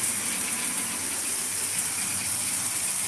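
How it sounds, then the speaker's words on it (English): Inside a caravan, a shower runs with a strong, steady hissing gush of water that holds evenly throughout, close and continuous, with no voices. "Proper shower."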